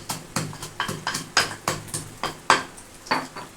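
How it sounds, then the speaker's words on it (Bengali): Roasted peanuts being crushed into powder in a kitchen for doi bora, giving a run of sharp knocking pounds at a steady, slightly uneven beat, close and clear with no talking. "এটাকে ভালো করে ভেঙে আগে গুঁড়ো করে নেব"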